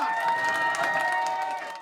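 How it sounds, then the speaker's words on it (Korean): Audience applause and cheering at a Nintendo Sports tennis final held at a church event, a short dense burst of clapping and crowd noise over a steady musical tone. "여러분들의 박수와 함성과 함께 시작하겠습니다"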